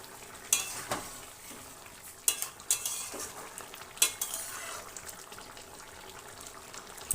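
A spoon scrapes and clinks against a pan while garam masala is stirred into a cauliflower and tengra fish curry, with sharp metallic knocks over a soft simmering sizzle.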